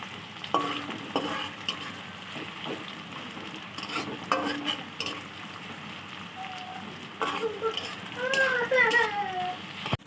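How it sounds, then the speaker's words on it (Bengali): Chopped onions sizzle steadily in a pan while a spoon scrapes and stirs them at intervals. A voice talks over the cooking in a Bengali kitchen. "এটাকে ভালো করে ভেজে নিতে হবে লাল লাল করে।"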